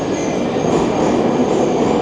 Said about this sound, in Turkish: Yandan metro geçiyor.